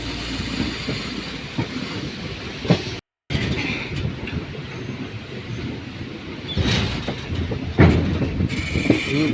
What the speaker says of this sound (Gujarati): હવે ટ્રેને પાટો બદલાઈ ગયા છે